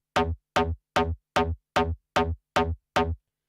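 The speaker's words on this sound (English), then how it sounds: "the bass has now been implemented, so that sort of donk bass" Eight punchy donk bass hits repeat at an even, steady pace, each a short bouncy tone with a quick decay, played alone with no other sounds, from a remix.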